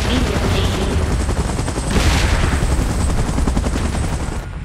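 Rapid gunfire crackles continuously over the steady thrum of a helicopter in a PUBG-style video game, loud and dense throughout, with a sharp burst swelling around the middle.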